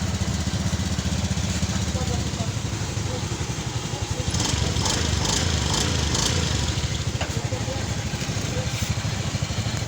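A Honda Beat FI scooter with clutch-side plate noise runs steadily, its small engine giving a loud, close, continuous putter with a faint rattle throughout.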